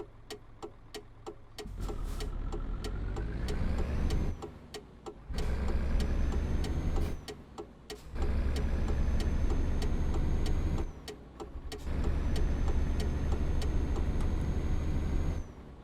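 A small, low-horsepower truck engine runs while driving, settling to a steady drone between gear changes; several brief ticking gaps split the rumble into bursts that rise and hold at a close, moderate level.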